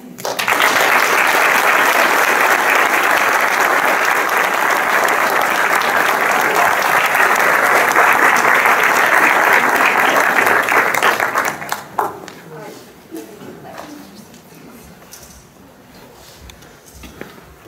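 A big round of applause from an indoor audience at a Bill of Rights Day event, dense and sustained for about eleven seconds before it abruptly thins into scattered claps and quiet room noise.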